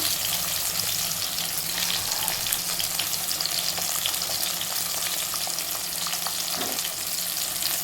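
Steady close sizzling and frying of onions and garlic sautéing in a hot pan, with occasional stirring scrapes, continuous throughout and no talking.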